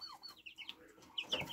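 A brooding hen gives a few soft, scattered clucks close by among chicks and pheasants in a farmyard pen, quiet and intermittent, with a louder burst near the end.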